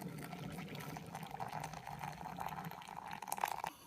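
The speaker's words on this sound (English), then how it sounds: "I'm just going to put some boiling water into there and start mixing it up" Boiling water pours steadily onto crushed henna powder in a bowl, a close, continuous trickling stream lasting several seconds before stopping abruptly.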